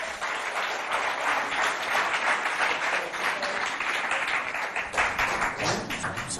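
Studio audience applauding quiz contestants from two provincial schools, a steady dense roar of clapping that stays loud and even throughout.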